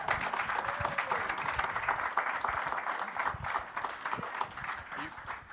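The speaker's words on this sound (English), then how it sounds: "Can we give Eugene a round of applause" An audience applauds at a panafricanism talk, a dense, steady wash of clapping that holds at an even level across the whole stretch, with a voice faintly audible beneath it.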